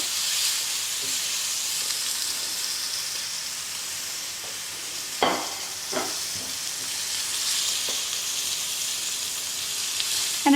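A blackened steak sears in a pan with a steady, fairly quiet sizzle. A few brief clatters and scrapes stand out above it.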